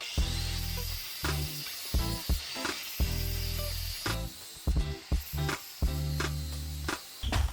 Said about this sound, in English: I'm just gonna try to take a flap wheel and sand this washer part off